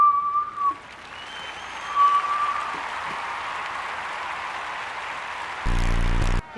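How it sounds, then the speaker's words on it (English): Someone whistles with the mouth, a few short thin tones heard alone among crowd applause and noise, followed near the end by a loud sustained buzzing tone. "Whistle with your mouth or fingers."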